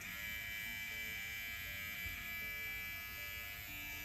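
Steady electric buzzing of a Philips OneBlade shaver's blades running, holding at an even level for the whole stretch with no pauses.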